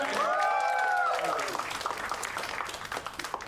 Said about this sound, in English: Huge round of applause for Shamik